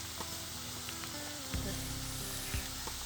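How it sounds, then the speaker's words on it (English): Mukulu frying in hot coconut oil gives a steady, quiet sizzle with a few soft pops and crackles rising above it near the middle and end. "she is frying the food item in hot oil"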